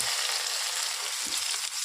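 Spices crackling in hot oil in a home kitchen pan, a continuous bright sizzle with small pops, close and steady for the whole stretch with no talk.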